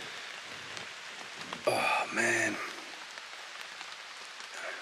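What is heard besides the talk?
rain falling on a forest camp shelter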